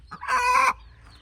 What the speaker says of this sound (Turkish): Annelerinin yanına saklandılar Defne.